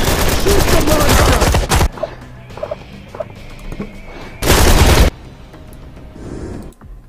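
Loud, dense bursts of video game gunfire aimed at a monster: a long close volley, a quieter pause with scattered sounds, then a second short burst.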